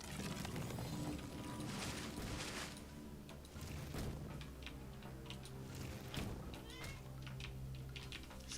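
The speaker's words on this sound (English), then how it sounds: "guy is meowing for food." A cat meows several times against a constant background hum and faint ticking, with no clear speech.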